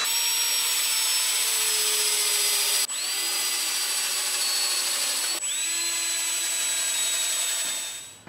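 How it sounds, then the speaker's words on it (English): A power drill whirs steadily in three long runs, each starting with a rising whine, pre-drilling holes into a wooden workbench up close with no talking. "let's pre-drill some holes"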